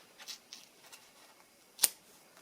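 A single quick snip of scissors cutting through the bottom of a thread tassel for a bookmark, sharp and close, set in near-quiet room tone with a few faint rustles.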